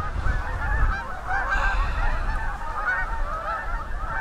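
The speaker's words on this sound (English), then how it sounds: "See lots of Canadian geese." Many Canada geese honk continuously in a noisy flock, overlapping calls over steady wind rumble outdoors on a snowy winter hike.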